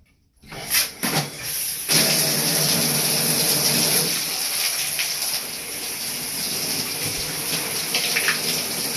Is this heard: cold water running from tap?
yes